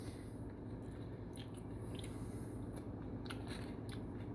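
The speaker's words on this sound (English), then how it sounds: "baby carrot is easily being chewed up." Soft, squishy chewing of a slow-cooked baby carrot, tender with no crunch, with moist mouth sounds close up over a low steady background hum.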